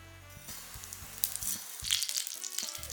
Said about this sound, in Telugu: కొంచెం హీట్ ఎక్కగానే ఫస్ట్ జీరా వేసుకోండి